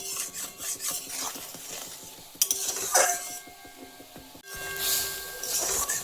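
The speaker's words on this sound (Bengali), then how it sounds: "হলুদ গুঁড়ো আর দিয়ে দেব জিরে আর ধনিয়ার গুঁড়ো এগুলোকে দিয়ে ভালোভাবে মশলাটাকে আমরা প্রথমে কষিয়ে নেব" Spice masala with turmeric, cumin and coriander powder is stir-fried in a pan for a mushroom and capsicum curry, with a soft sizzle under repeated close scraping and clinking of a spatula against the pan, no talking.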